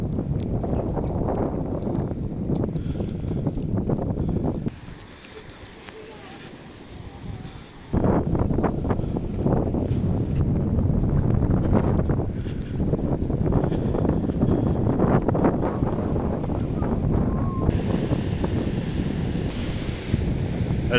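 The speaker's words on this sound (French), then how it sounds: "il y a beaucoup de vent" Strong wind on the Dutch coast near the sea roars and buffets the microphone almost continuously, easing briefly for a few seconds partway through before gusting back in at full force.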